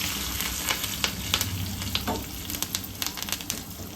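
Curry leaves crackle and sizzle in hot oil as a tempering for sambar, with a steady frying hiss broken by small popping spatters and a bit of stirring, close by.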